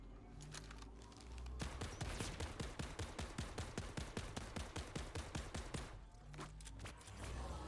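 Rapid automatic gunfire with heavy recoil in the video game Borderlands 4, a long, fast, evenly paced burst of loud close shots that starts after a quieter opening and pauses briefly before a final run.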